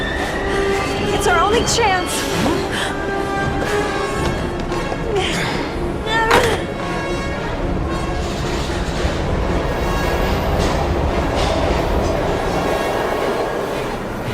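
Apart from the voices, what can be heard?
train passing in the video game Heavy Rain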